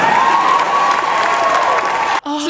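Large crowd at a political rally cheering and applauding loudly and continuously, a dense roar of clapping and shouting that cuts off abruptly near the end.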